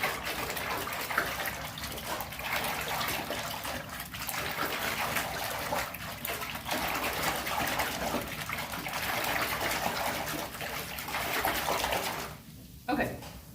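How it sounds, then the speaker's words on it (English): A hand swishing rapidly through water to stir in recycled paper pulp, a continuous churning, sloshing rush with brief dips, ending in a short pause and final splash. "You gotta stir it in using my special method,"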